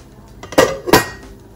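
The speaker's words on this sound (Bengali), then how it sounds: "10 মিনিট পরে আমি পোলাওয়ের ঢাকনাটা খুলছি" A metal lid comes off a pot of beef tehari pilaf, giving two quick clanks close by with no talk.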